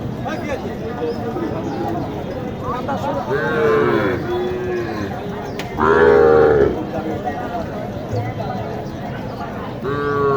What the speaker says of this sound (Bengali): এই যে একটা গরু দেখেন